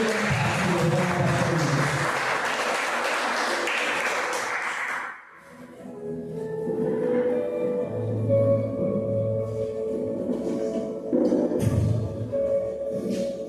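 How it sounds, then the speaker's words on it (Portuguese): A church congregation claps in praise for about five seconds, a dense wash of applause that cuts off. Then comes a quieter stretch with a voice speaking and low room sounds. "As palmas que nós, Senhor,"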